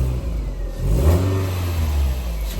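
Audi A3 car engine, a short rev rising out of a low idle and then holding a steady raised drone, close and fairly loud.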